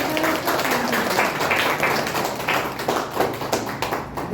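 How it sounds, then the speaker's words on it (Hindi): Audience clapping at a Mother's Day gathering, a dense, steady patter of many hands held close and loud through the whole stretch, with a few sharper taps standing out near the end. "ताली बजाओ, ताली बजाओ, खुशी होता है।"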